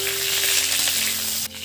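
Cauliflower frying in hot oil for a rohu fish curry gives a steady, loud, close sizzle with no talking.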